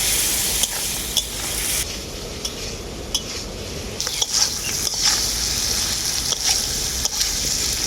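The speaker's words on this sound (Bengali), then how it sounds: "খুব ভালো করে সবজির সাথে আমি মশলাটা কষিয়ে নেবো" Ground spices, including dried chili powder with a splash of water, being sautéed with potato and pumpkin in a pan: continuous close sizzling with repeated scraping stirs and light taps of a spatula.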